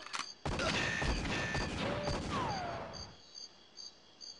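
Automatic gun turrets in the jungle level of the GoldenEye 007 video game fire a dense rattling burst lasting a few seconds. Synthetic whistles and beeps follow, then sparse electronic chirps as the firing stops.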